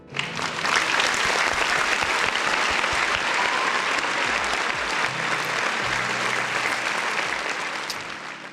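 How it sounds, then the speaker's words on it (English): A round of applause for chat viewers on a gaming talk stream: continuous clapping from a crowd, loud and steady, easing off slightly toward the end. "round of applause for the folks in the chat"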